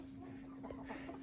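Mini meat fawn chickens cluck softly in a yard, a few short faint clucks over a steady low hum and quiet background.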